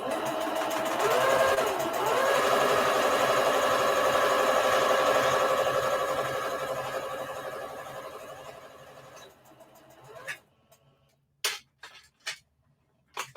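A sewing machine runs steadily chain-stitching fabric pieces for an Easter bunny treat bag, a fast continuous whirring hum for several seconds, then slowing and stopping, followed by a few sharp clicks and knocks.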